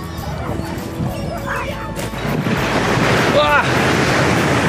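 Sea surf at Playa Gaviotas in Cancún, a beach with a breakwater, washes steadily with a loud, continuous roar, gusts of wind buffeting the microphone and one sharper crash near the end.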